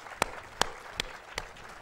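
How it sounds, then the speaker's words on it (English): Audience clapping at a Jaipur Literature Festival 2014 panel, four loud, evenly spaced single claps close by over a faint room background. "please give a big round of applause for Emma Rothschild"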